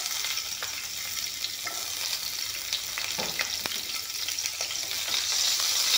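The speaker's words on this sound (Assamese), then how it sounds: "পিঁয়াজখিনি অলপমান ভাজি ল'ম।" Chopped onions fry in refined oil in a hot wok, giving a steady, even sizzle with faint stirring scrapes throughout and no voices.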